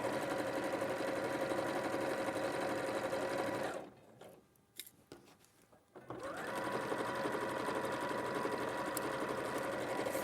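Domestic sewing machine stitching a curved seam with a quarter-inch seam allowance, running as a steady, close, continuous whirr that stops briefly partway through before resuming.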